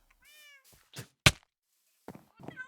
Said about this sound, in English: people can come and pet the cat